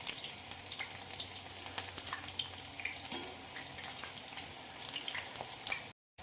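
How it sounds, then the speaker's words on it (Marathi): Spinach bhaji fritters deep-fry in hot oil with a steady, close crackling sizzle that runs evenly and stops abruptly near the end. "दोन्ही पण बाजूने छान आपण तळून घेऊया."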